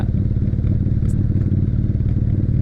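A motorcycle engine lugging in too high a gear chugs low and rough at steady speed, labouring with a deep uneven rumble and no voices.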